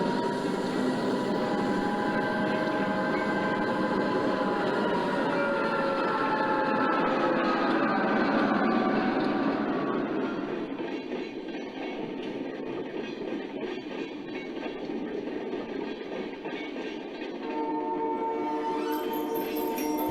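Mixed manifest freight train rolling through West Mill on a model railroad layout, a sustained rumble with tonal whine and clatter that eases off midway, then a brighter tonal rise near the end, no voices.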